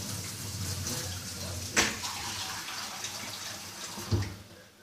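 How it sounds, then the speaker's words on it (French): Cold tap water running into a bowl in a kitchen, a steady close hiss and splash lasting throughout with a couple of louder bumps, no speech. "Et le bol, il va falloir le remplir d'eau froide."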